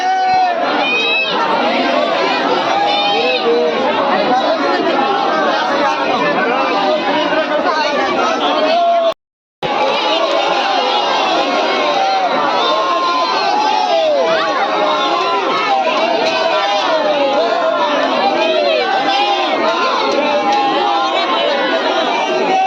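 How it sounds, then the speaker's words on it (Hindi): A dense crowd of devotees waits for Bageshwar Maharaj's darshan, a loud, continuous hubbub of overlapping voices, calls and children's shouts close around, with one brief cut partway through. "यहाँ पर लगी हुई है बागेश्वर महाराज जी की दर्शन के लिए भीड़"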